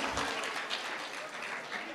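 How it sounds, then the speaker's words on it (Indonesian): Faint, steady applause fills the room at a talk show and workshop in Bentara Budaya Bali, a continuous wash of many hands clapping, heard from a distance and fairly soft. "Tepuk tangan sekali lagi buat Pak Saud Situmorang"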